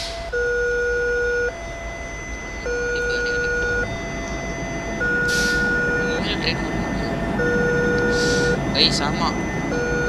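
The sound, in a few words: train crossing in a bus simulator video game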